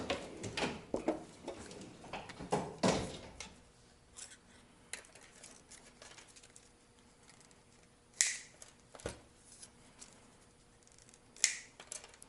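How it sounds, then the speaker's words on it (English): A plastic wire tie is cut into smaller pieces with sharp, isolated snips, a few close clicks spread out over quiet background. "Next would be just to cut up this wire tie into smaller pieces."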